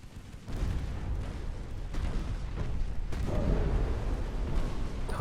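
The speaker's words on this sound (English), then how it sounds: "I think that must have been a torpedo." A torpedo hits a warship in Ultimate Admiral: Dreadnoughts, a naval video game, with a deep rumbling boom and rolling low thunder, amid a continuous heavy din of distant battle.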